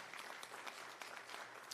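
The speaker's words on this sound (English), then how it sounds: "So faculty and staff, please stand for a round of applause." Applause for faculty and staff at a law graduates' bar swearing-in ceremony, a faint but steady patter of many hands clapping from a distance.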